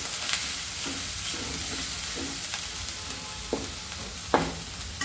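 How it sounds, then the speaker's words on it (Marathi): Black masala paste sautés in a pan with a constant soft sizzle, broken by repeated scraping stirs of a spatula at an uneven pace and a sharper knock near the end; no one talks. "आणि हा काळा मसाला 2 चमचे। हे आपण परतून घेणार आहोत।"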